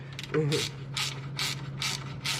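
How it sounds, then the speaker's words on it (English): A ratchet wrench loosens a bolt during a Ford Mustang cold air intake install, giving about five quick bursts of rattling clicks in a steady back-and-forth rhythm, close and clear. A brief squeaky tone comes early, and no one talks. "Old wrench is stuck."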